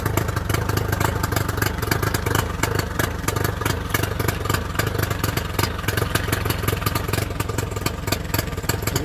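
An outboard boat motor revs steadily at high speed during flushing, a loud, continuous rattling drone with no voices.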